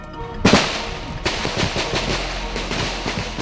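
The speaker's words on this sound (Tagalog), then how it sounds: "wala nang tigil ng putukan" Bursts of gunfire crack out one after another, a sharp loud shot followed by a run of rapid reports echoing on without a break.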